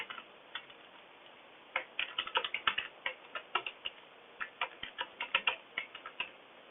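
Keys tapped on a computer keyboard while a password is entered into a VB.Net employee lookup program, a quiet run of uneven clicks with a brief pause before a denser flurry, with no voices.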